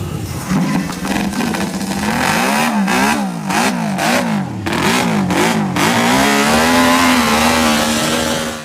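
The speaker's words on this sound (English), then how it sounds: "the now elderly Giacomo Agostini is starting up one of these motorcycles." A vintage MV Agusta racing motorcycle engine starts and revs repeatedly, loud and close, with rising and falling throttle blips before holding a steady high idle.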